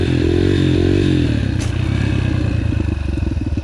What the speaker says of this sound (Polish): ładujemy trochę na koło i spróbuję odświeżyć, bo dawno nie jeździłem motorem